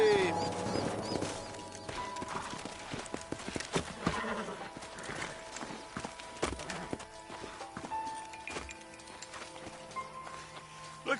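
Hooves clop in an irregular rhythm and a horse whinnies in Red Dead Redemption, set among game sound effects with brief talk at moments.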